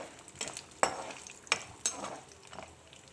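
Lentils (dal) frying and being stirred in a pan: a low crackling sizzle broken by several sharp scrapes and knocks of a spoon against the pan, close by, with no talking.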